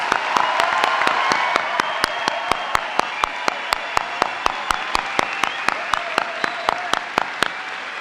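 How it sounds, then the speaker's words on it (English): A crowd applauds 2018 Sheridan College graduates at a commencement ceremony, steady dense clapping overlaid by a strong regular series of sharp, close, loud claps from a nearby pair of hands. "could I have a round of applause for our 2018 Sheridan College graduates?"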